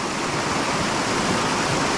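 A mountain waterfall in a stream during spring runoff rushes in a dense, loud, steady roar, close by with no pause.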